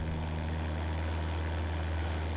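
A steady, droning Cessna 172 propeller engine in a flight simulator game hums continuously at a constant pitch, with a strong low rumble and no voices.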